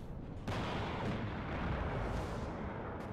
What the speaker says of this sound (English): there's fresh artillery coming up to smoke it